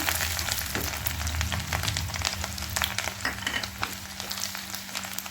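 Cumin seeds and ginger frying in a home kitchen pan for a Punjabi radish sabzi, giving a steady close sizzle and crackle with a few stirring scrapes, heavier at the start and thinning out later.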